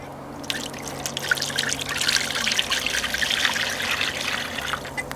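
Stock and red wine pour steadily into a pan, a continuous splashing trickle starting after a brief pause and running to the end, close by with no talking.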